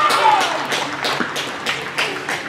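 A footballer claps for herself after scoring for Crystal Palace Women, a quick patter of hand claps under close commentary and stadium crowd noise.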